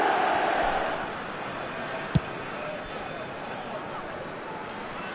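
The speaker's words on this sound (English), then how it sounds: "the crowd are reacting to that now" A stadium crowd in the eFootball video game murmurs and roars steadily in the background, swelling slightly at the start, with one sharp knock partway through.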